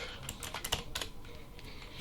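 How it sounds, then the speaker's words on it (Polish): Quick, light keystrokes on a computer keyboard, a brisk irregular run of clicks heard close up and fairly quiet, with no talking. "muszę sobie klawiaturę przestawić"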